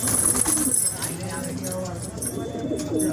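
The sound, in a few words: pigeons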